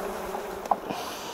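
Bees buzz densely around a beehive frame being handled, a steady close drone with one brief knock partway through and no voices.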